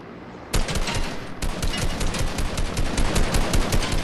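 Rapid automatic gunfire from a Fortnite Battle Royale match, a dense burst of repeated shots starting suddenly and continuing steadily throughout, loud and close with no talking over it.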